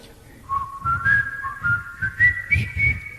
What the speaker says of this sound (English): you try and whistle into a microphone and the wind hits it and comes back